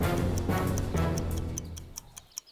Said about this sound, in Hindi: वो मेरी घड़ी लगता है कुछ खराब हो गया, बहुत आवाज कर रही है